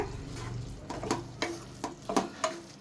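A spoon stirs aviyal, a mixed vegetable curry, in a pan, producing a series of soft scraping strokes and light clatters over a faint sizzle, close and quiet.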